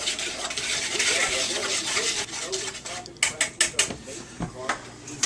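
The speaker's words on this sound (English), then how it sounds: "I take my whisk and I just make sure that I whisk everything in" A whisk scrapes and rasps around a bowl of dry pancake ingredients in a continuous rough rubbing, then shifts into a run of sharp, separate clinks against the bowl's side.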